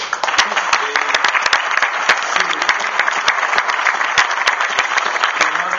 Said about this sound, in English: I want to give the whole staff, please, another round of applause